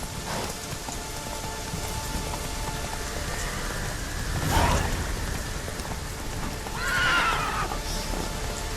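Roach the horse whinnies twice in The Witcher 3, with a short neigh midway and a longer, rising whinny a few seconds later, both over steady falling rain.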